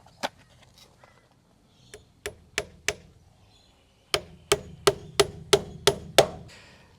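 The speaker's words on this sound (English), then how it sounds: "I'm just going to slot that in there, put a couple of nails in the top." Hammer drives nails into a small wooden wedge on a shed build, a few sharp strikes followed after a pause by a steady run of about eight close, evenly spaced loud blows.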